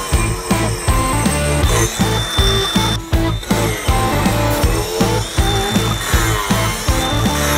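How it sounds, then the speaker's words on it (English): An aggressive carving wheel shapes wood with a loud, close power-tool whine, pulsing in quick regular strokes as the abrasive wheel bites and releases, alone without talk. "It's all a carving wheel. It's a super aggressive sandpaper."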